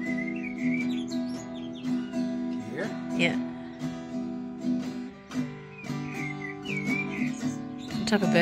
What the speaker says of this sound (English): Type of bird do you think? Wrens maybe?